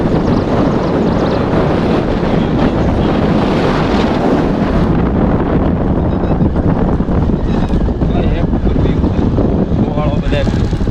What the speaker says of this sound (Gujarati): પવનનો અવાજ આવતો હશે